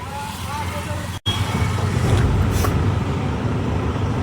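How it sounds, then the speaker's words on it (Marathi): A truck engine, just started on a Mumbai to Bengaluru haul, idles with a steady, loud low rumble that cuts out for a split second before settling back into an even drone. "गाडी आपण चालू केली. आता आयडल रनिंगवरती आपण असंच 10 मिनटं जरा ठेवू."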